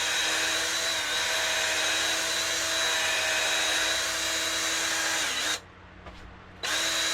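A power reamer bores out a fishing rod part with a continuous close whirring drone, stopping briefly for about a second before starting again.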